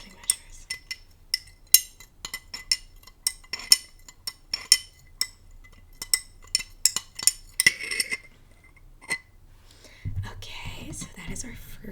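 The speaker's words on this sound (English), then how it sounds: "Okay, so that is our first stir." A metal spoon stirs lemonade in a glass, making a run of bright clinks and taps against the sides close up, with soft whispering and a low rustle near the end.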